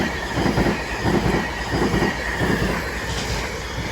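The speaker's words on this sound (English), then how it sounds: "Off goes 390 152, working a service from Glasgow Central to London Euston." A Class 390 train pulls out of Crewe on the West Coast Main Line, bound for London Euston from Glasgow Central. Loud, close rumbling comes with rhythmic wheel clatter and a thin squeal, and no one speaks.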